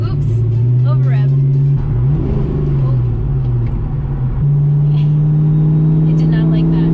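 Foxbody Ford Mustang with a swapped Tremec T-56 Magnum six-speed manual, engine droning loud and close, over-revving with a sharp pitch swing mid-way, then steadily accelerating again under a steady cabin drone; a person talks over it.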